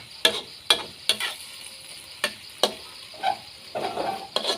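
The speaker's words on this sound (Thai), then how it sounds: "ผมผัดกะเพราเนื้อ" Beef with holy basil and dried chilies is stir-fried in a pan, giving a soft sizzle broken by about ten sharp spatula scrapes at an uneven rhythm, close by and without speech.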